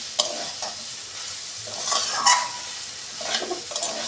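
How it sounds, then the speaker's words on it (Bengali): Dried fish is stirred in a hot frying pan, giving a soft continuous sizzle with intermittent scraping and clinking of a utensil against the pan, close and moderately quiet. "শুকনো মাছ দিয়ে একটু নেড়ে দেবো।"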